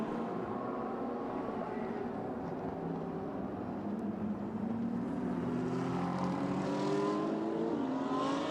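GT race cars cross the finish line at Okayama circuit during a Fanatec GT Asia race, a continuous engine roar with rising and falling pitch sweeps as cars pass at moderate distance.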